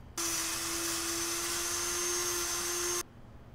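A rotary tool fitted with a grinding stone smooths the grooves of a handmade hand cannon prop, a steady high-pitched whine holding for about three seconds, close and loud, then cutting off abruptly.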